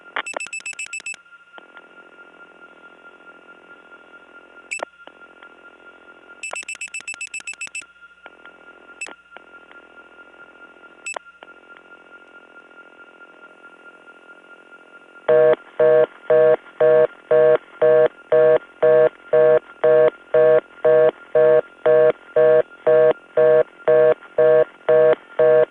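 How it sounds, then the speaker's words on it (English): Telephone line audio from a 1979 step tandem switch in Gainesville, Georgia: steady line tones broken by sharp dialing clicks and short tone bursts, then a loud, fast repeating reorder tone for the last ten seconds, with no talking. "I'll dial 7, which is a valid steering digit, but then of the 4 digits that follow, one of them will have 11 pulses."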